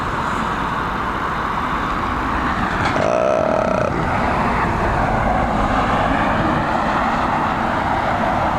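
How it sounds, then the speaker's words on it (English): An American Airlines Boeing 787 arriving at Dublin Airport, its engines giving a loud, sustained rumbling roar with a brief tonal whine partway through, heard alone without talk. "American Airlines"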